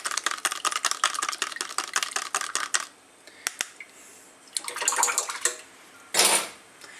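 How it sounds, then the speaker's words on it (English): Yeast and table sugar stirred in a container, quick close clinking taps of a utensil against the sides in a fast rhythm, then a few scattered knocks and a short scrape, no talking. "Give it a bit of a stir up."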